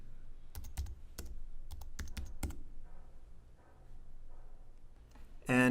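Keys on a computer keyboard are tapped in scattered quick strokes and short clusters, then a quieter stretch follows before a brief loud burst closes the segment; no one speaks.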